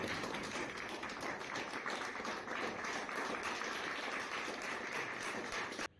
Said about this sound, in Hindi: आउट के ताली बजाओ, देखो।